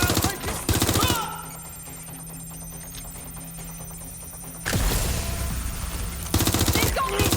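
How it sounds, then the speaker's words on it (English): Bursts of rapid automatic gunfire from Watch Dogs Legion open and close the stretch, loud and rattling, with a long quieter gap of steady tonal background hum between them. "Incoming fire!"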